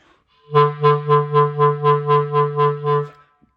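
A sustained clarinet tone pulses in about ten uneven, heavy vibrato swells of loudness, each beat surging and dipping sharply, played alone.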